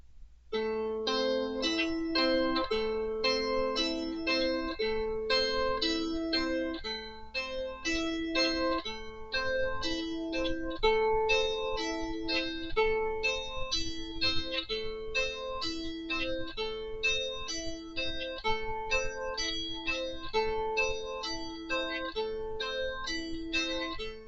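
A plucked lyre plays a short two-handed pattern looped over and over, bright notes ringing steadily in an even rhythm with no voices.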